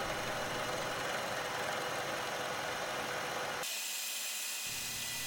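A manual milling machine with a large-diameter cutter, conventional cutting the teeth of a 15-tooth gear, gives off a loud, steady grinding drone that shifts abruptly to a thinner tone partway through.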